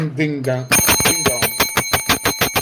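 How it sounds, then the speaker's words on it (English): A voice speaks briefly, then a ding-dong bell sound effect rings out in a rapid series of bright, loud, evenly spaced chimes. "Let's give this person a ding dong"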